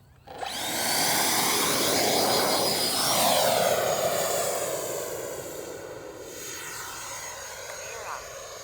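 A jet-like whine swells as a Durafly Vampire 70mm electric ducted fan RC jet passes close, then recedes into a steady high-pitched roar that lingers at a distance.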